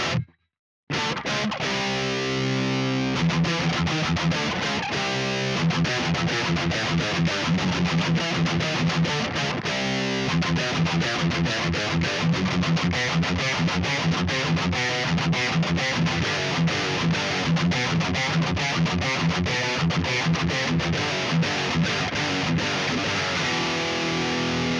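A heavily distorted electric guitar plays chugging rhythm riffs through a Neural DSP Mesa MkIIc+ amp plugin, loud and continuous after a brief silence at the start.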